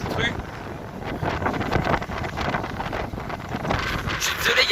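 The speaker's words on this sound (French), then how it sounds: "il y a énormément de vent" Strong gusts of wind buffet the microphone on a city street in Rouen, a loud, continuous rumbling roar that rises and falls, with a person talking underneath.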